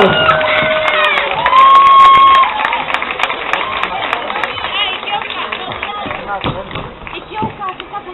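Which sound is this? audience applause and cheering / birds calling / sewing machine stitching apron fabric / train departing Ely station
audience applause and cheering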